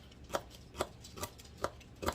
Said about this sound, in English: So I'm just going to cut my celery up.